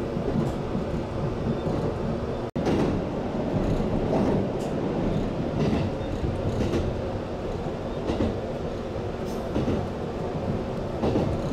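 A limited express train runs on the Tokaido freight line in Japan, heard from onboard as a steady loud rumble of wheels with periodic clacks over rail joints and no voices.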